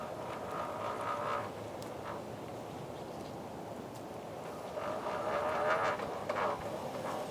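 An electric Toyota Matrix conversion drives along with a low, continuous whirring drone and a faint gear whine riding on top, rising slightly toward the end, with some road rumble underneath.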